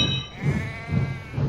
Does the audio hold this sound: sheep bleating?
yes